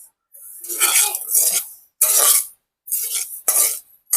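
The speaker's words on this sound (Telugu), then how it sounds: "నేను స్లో ఫ్లేమ్ మీద వేయించుతున్నాను" Flax seeds roasting in a pan over a slow flame, heard as several close, bright rattling and scraping bursts of stirring separated by short silences.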